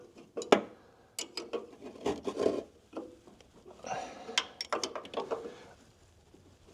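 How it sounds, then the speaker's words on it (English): Bolt being tightened during installation of a lift kit on a Buick Roadmaster wagon, with irregular clanks, scrapes and ratcheting clicks in bursts, close by and moderately loud with pauses between. "You really want to tighten that thing down"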